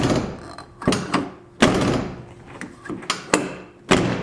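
A Jeep Wrangler door is worked open and shut, giving a run of close, heavy thunks and latch clacks at irregular intervals, with no talk.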